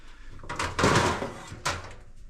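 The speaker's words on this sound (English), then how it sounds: "I'm going to go ahead and get a baking sheet out now." Clattery rattling and scraping as a baking sheet is pulled from a kitchen cupboard, with a loud bang midway and a second sharp knock shortly after, close by.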